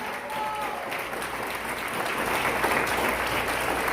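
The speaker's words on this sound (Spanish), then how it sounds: "Y un aplauso al Señor esta mañana" Congregation applauding during a church service, a steady wash of clapping that swells slightly over a few seconds with a voice speaking underneath.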